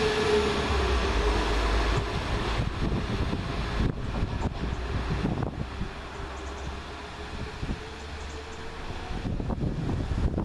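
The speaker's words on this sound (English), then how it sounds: "Here comes my train around the corner" A passenger train rumbles steadily with low-frequency wheel and engine noise, some wind buffeting the microphone, as it rounds a corner and rolls closer along the track.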